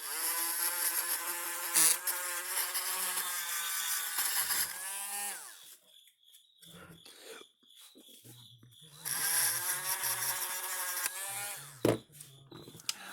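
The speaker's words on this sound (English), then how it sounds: "And then we're going to clean up this board here, find a Dremel tool." A Dremel rotary tool cleaning the circuit board of a Gallagher Billy M800 electric fencer: a steady high whine runs close and loud, cuts out for a few seconds, then whirs up again before stopping.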